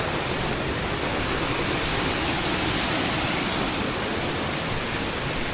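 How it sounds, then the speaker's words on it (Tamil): Waterfalls in Australia's Blue Mountains roar in a dense, unbroken rush of falling water, loud and steady throughout with no voices. "எல்லா பக்கமும் ஃபால்ஸ் தான்."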